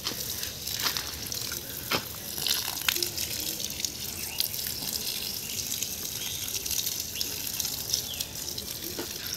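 Water is poured onto dry garden plants at a home, a steady splashing gush with a few sharp drips over about nine seconds, fairly close, with no talking.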